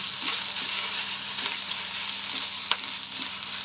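Khichuri ingredients sizzle and fry steadily in a pan, with faint stirring scrapes and one sharp clack of a utensil near the end, close and alone without voices.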